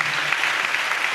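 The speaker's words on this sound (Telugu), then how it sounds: "గట్టిగా చప్పట్లు కొడుతూ స్తోత్రాలు చెప్దాం" Church audience clapping loudly and steadily during a pastor's sermon, a dense continuous burst of applause filling the short moment.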